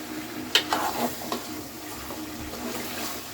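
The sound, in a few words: stirring meat curry in pan after adding water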